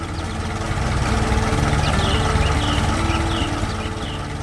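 A red tractor pulling a trailer loaded with crops in a cartoon farm scene, its engine running as a loud, steady low rumble that stays constant throughout with no pauses.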